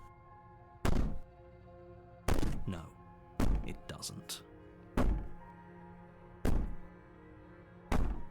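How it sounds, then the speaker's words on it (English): Heavy banging on a door in the video game Slay the Princess, six loud booming thuds spaced a second or so apart, each ringing out briefly, with a short spoken line between them. "Maybe the banging and wailing will stop if you just don't pay attention to it."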